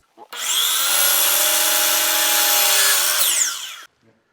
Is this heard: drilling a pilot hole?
yes